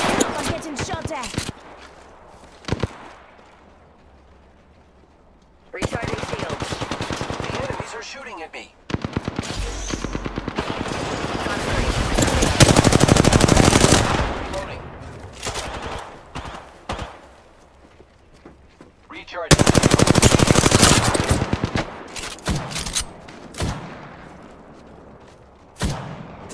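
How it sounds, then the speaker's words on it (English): Gunfire in the Apex Legends battle royale game: loud bursts of rapid shots and heavy blasts come in several waves between quieter gaps, with a voice heard talking over parts of the action. "I'm getting shot at."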